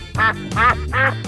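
Three loud, close quacks in a quick, even series, each a nasal honk with a short gap between them; they may come from a cartoon duck or a voice imitating one.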